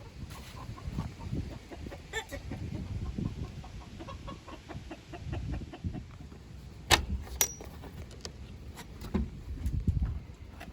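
Chickens cluck softly inside a neighbor's coop, with scattered quiet clucks and a few sharper calls, plus faint jangling and movement sounds nearby.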